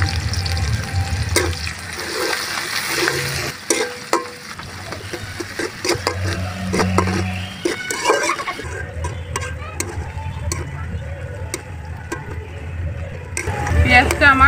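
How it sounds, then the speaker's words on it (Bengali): Chopped onions with salt frying in a pan give a steady sizzle under repeated scraping and stirring strokes, with some low voices and kitchen clatter mixed in and a stronger sizzle burst near the end. "পেঁয়াজটা আমার হালকা ভাজা হয়ে গেছে"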